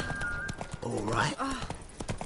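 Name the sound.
horse Roach galloping hooves, from video game The Witcher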